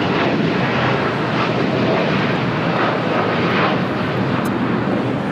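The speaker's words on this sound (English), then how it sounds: "This is United Airlines Flight 231 taking off to London Heathrow on a 787-9 Dreamliner" United Airlines Boeing 787-9 Dreamliner taking off from LAX, a powerful, continuous jet engine roar, loud and near, with a dense rumbling low end that stays steady throughout.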